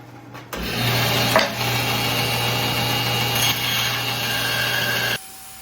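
A bandsaw cuts out a knife blank with a loud, steady buzzing whir that runs about five seconds and then stops abruptly.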